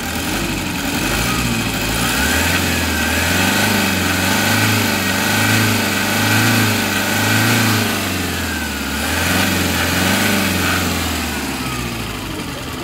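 A Toyota D4D diesel engine runs steadily at close range, a continuous low rumble with a rhythmic throb and a gently rising and falling tone, treated for a throttle delay issue.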